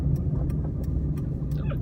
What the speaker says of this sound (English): That was a Vauxhall Calibra.